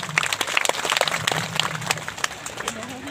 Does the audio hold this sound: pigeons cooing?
no